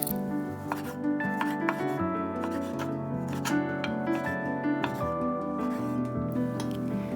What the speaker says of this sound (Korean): 이제 양파 1개를 작게 썰어 주시고요.